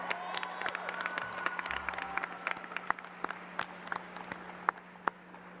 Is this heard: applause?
yes